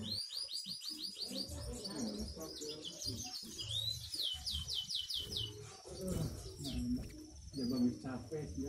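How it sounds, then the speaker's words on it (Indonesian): Black-throated canary chicks chirp in rapid, repeated high peeps, fairly close, with people talking over them throughout. "nama burungnya black throat"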